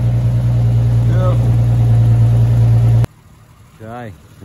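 Valiant VJ Ranger engine with a Holley two-barrel carburettor idling loudly and steadily up close, cutting off abruptly partway, followed by a short spoken voice.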